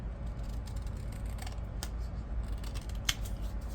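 Scissors snipping paper lace strips close by, a few short crisp cuts and clicks over a low steady background hum, with no talk.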